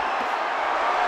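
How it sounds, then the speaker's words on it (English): Boxing arena crowd for Golovkin against Lemieux, on their feet and roaring in a broad, sustained wash of cheering that fills the whole moment. "Crowd up on their feet."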